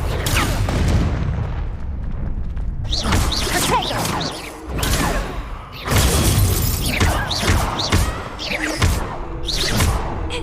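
Confringo explosion spell cast in Hogwarts Legacy on PlayStation 5: loud, dense booms and crackling bursts arriving in waves over a continuous rumbling game soundscape.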